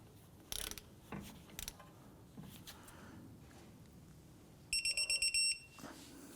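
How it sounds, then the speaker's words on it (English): Torque wrench tightening caliper bolts on a 2004-2008 Acura TL: a few ratcheting clicks, then a quick burst of about six sharp beeps, close but quiet in a workshop. "I'm going to torque our caliper bolts to 37 foot-pounds."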